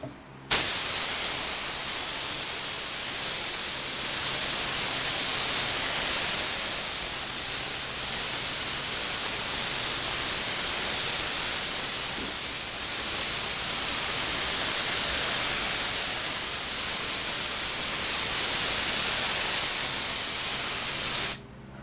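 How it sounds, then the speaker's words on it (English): A steady, loud hiss of contact cement spraying from an aerosol can runs continuously for about twenty seconds, starting and stopping abruptly, with no talking over it. "this is a contact cement, so you need to spray both parts"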